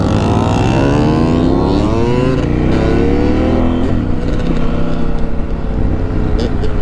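A KTM 890 or Yamaha T700 adventure motorcycle engine fires up and revs outdoors, rising and falling in pitch as the throttle is blipped, loud and close, with wind and a voice briefly audible.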